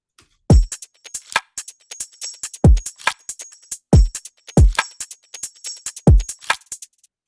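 A produced electronic drum loop with a replacement kick drum plays loud and clear, with regular deep thumping kicks under a busy, crisp pattern of bright hi-hat ticks and sharp snare hits.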